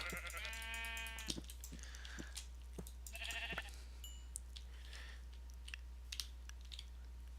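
Sheep in the video game Minecraft bleating as they are punched, a few short synthetic bleats spread across a quiet, low-level background.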